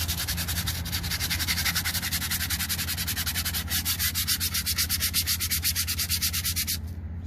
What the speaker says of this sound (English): Bit of sandpaper, fold it in half. And I'm just gonna make these smooth.